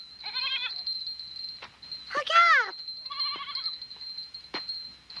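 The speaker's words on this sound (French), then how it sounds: "tu vois bien que les chèvres ne veulent pas partir sans moi" Goats in a mountain herd bleat in several wavering, close calls, one long loud cry in the middle, under a high steady tone, with a brief spoken word from a child.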